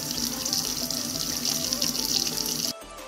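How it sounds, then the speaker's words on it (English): Water running from a kitchen sink faucet after a Badger 500 garbage disposal installation, a steady, close, rushing flow that cuts off abruptly near the end. "Run the water to make sure that nothing is leaking underneath."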